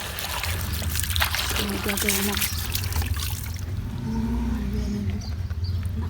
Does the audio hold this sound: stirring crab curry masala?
no